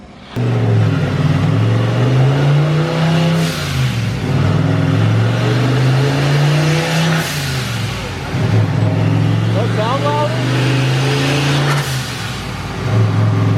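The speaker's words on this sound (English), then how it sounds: "I'm hearing the blow-off valve more" A turbocharged car engine with a failing, smoking turbo revs hard and loud through repeated pulls, its pitch rising and falling, with a brief blow-off valve whoosh as the throttle lifts.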